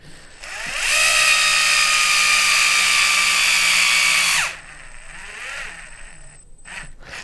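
A gyroscopic electric screwdriver whirs steadily at close range for a few seconds, driving screws on an RC rock crawler kit, then winds down, followed by a softer motor sound and light handling clicks.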